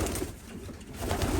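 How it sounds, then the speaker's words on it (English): Pigeons cooing in a loft section housing spare cocks, soft low throaty coos overlapping near and far over a busy rustling background, with no talking. "Some lovely pigeons in here."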